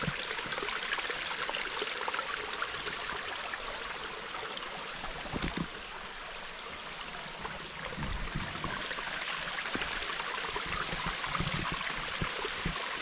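A park stream flows and trickles steadily over rocks, a constant moderately quiet babble of running water with no voices.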